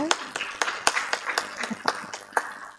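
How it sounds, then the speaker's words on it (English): Sparse applause from a seminar audience on science literacy, a handful of separate, fairly close claps in an uneven rhythm rather than a full ovation. "may I have round of applause from the audience"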